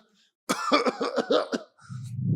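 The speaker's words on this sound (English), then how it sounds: "He clears his throat, brings his hand to his mouth and coughs" A man clears his throat with a run of rough, rhythmic hacking, then a short low rumble follows after a brief pause, close and clear.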